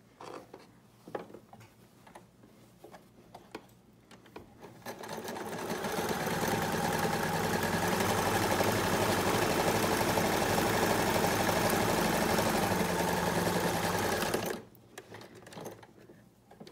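A sewing machine runs steadily for about nine seconds, stitching the top edge of a simple fabric face mask shut, with quiet handling noises before and after the continuous whirring run.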